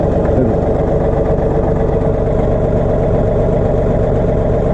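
A John Deere 3039R tractor engine rumbles low close by while reversing slowly in first gear, even and unbroken, with no voices over it.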